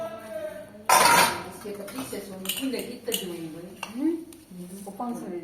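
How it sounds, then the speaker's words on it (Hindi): Dishes, pots and metal utensils are scrubbed and washed by hand while seated, with a sharp clatter at the start followed by repeated clinks and scrapes as a person talks throughout. "बैठ के साफ कर जा रहा हूँ बर्तन"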